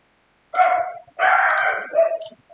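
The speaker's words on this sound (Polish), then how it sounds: "Cicho pies, bo ja tu nagrywam odcinek" A dog indoors barks and yips in three short, loud bursts close by, with brief quiet gaps between them and no talking.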